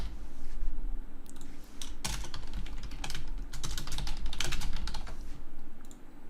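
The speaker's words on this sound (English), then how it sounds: "Can't type today." Bursts of quick clicking keystrokes on a computer keyboard, close and clear, in uneven flurries with brief pauses over a low background hum.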